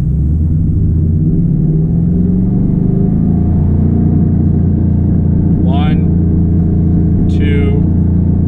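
A Ford Mustang GT engine is held at a steady 3500 RPM, producing a loud, continuous low rumble with a constant pitch. A couple of brief, faint vocal sounds rise over it.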